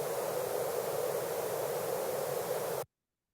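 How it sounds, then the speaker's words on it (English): Filtered white noise hisses steadily and loudly, a dense broadband rush with a softened top that plays unbroken for nearly three seconds and then cuts off abruptly into silence. "if I choose apply here, this is my white noise"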